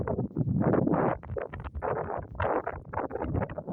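Gusty outdoor wind buffets the microphone in uneven, rumbling bursts during a pigeon-flying session with an Iranian fighting pigeon, loud and close throughout with no clear voices.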